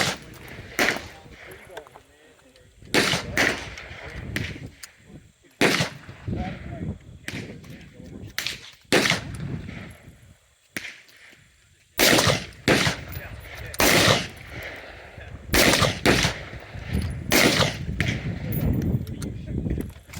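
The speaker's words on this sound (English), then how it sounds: "I'm going to shoot some rounds through this Rossi and see how it works" A customized Rossi 92 lever-action carbine in .357 fires at an outdoor range, with about a dozen sharp, loud reports at irregular spacing and a voice talking between some of the shots.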